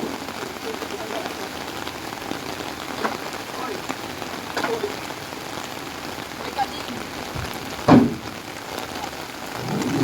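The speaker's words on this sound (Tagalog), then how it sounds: "Lakas ng ulan, ligo-ligo." Heavy rain pours down steadily on surfaces outdoors during a pickup and delivery job, a dense hiss throughout with a sudden louder knock near the end and faint background voices.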